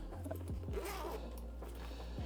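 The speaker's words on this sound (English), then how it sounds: "In the front pocket, we have this small zip section" A zipper on the small front pocket of a budget camera sling bag is pulled open in a few quick, close, quiet rasping strokes.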